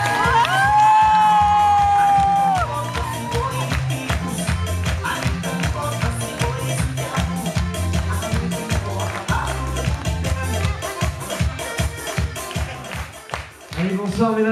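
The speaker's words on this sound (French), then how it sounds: "Les 4 intervenants, s'il vous plaît, sous vos applaudissements" A holiday resort crowd in Turkey cheers, whoops and claps as zumba instructors and entertainers are introduced, all under loud, rhythmic dance music with a strong beat.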